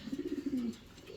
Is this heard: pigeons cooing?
yes